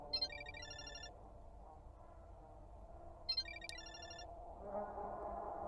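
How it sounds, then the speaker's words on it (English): A phone ringtone trills in two short bursts from a balcony in a Chilla's Art horror video game, muffled and somewhat distant against a low room hum, with no speech. "Asuka's ringtone? I think it's coming from the balcony."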